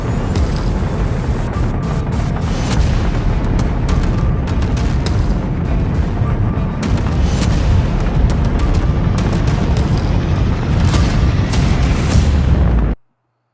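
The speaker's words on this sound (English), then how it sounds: "2, 1, 0. Ignition. Liftoff. Liftoff." A rocket lifts off just after a countdown and ignition, its continuous loud, broadband roar and crackle steady for about thirteen seconds before cutting off abruptly.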